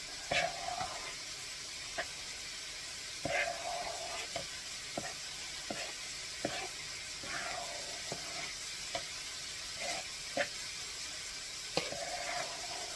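Cheese is stirred into a simmering pot pie filling in a pot, producing a steady sizzle with irregular scraping and clinking spoon strokes throughout, close and moderately loud, without talk.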